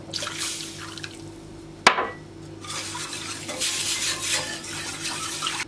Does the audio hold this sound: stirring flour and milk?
yes